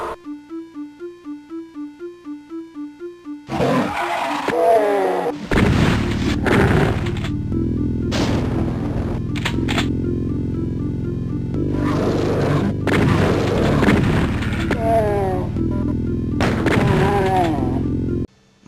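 Doom on the Sega 32X plays its weapon and monster effects: loud blasts, booms and crashes come in rapid bursts after a stretch of plain chiptune music, with growls and explosions close and dense, no talking.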